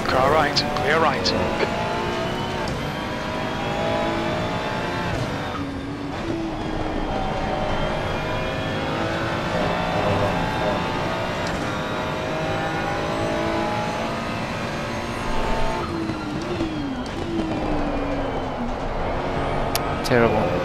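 Race car engine in Assetto Corsa Competizione at the Nürburgring, a loud sustained roar rising and falling through gear shifts, with another car nearby and a voice talking over it.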